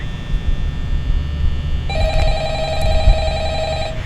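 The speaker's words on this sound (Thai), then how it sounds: "ฟังเสียงโทรศัพท์จากโฟนกายที่กำลังจะโทรมา" A telephone rings in the PC demo of the horror game Five Nights at Freddy's, a steady electronic ring starting partway through and continuing loud and clear over a low background hum.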